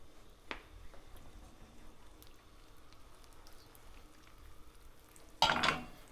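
Sausage gravy made with milk and red pepper flakes simmers softly in a pan with a low, steady bubbling sizzle, followed near the end by a brief louder burst of frying or stirring.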